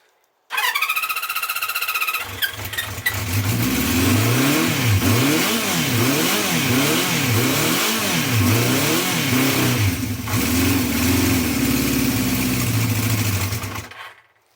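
A 1974 Honda CB350 Four motorcycle engine runs with the choke on, loud and close, its revs rising and falling in a steady wavering rhythm for over ten seconds with no talking.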